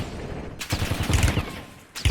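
Close gunfire in the Warzone battle royale video game, a dense crackling burst of rapid shots followed by a brief lull and one more sharp burst.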